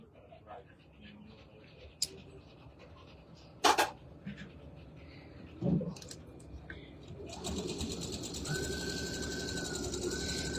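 A sewing machine stitches two pinned fabrics corner to corner, starting with scattered clicks and handling knocks, then settling into a steady, fast mechanical whir over the final seconds.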